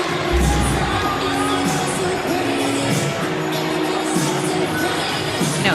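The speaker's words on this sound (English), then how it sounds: "That's why you hear the cheer from the crowd." Crowd in an arena at an NCAA women's volleyball championship match between Nebraska and Penn State, cheering as a replay plays in-house; a steady roar of many voices, fairly loud and distant-sounding, with a commentator talking over it.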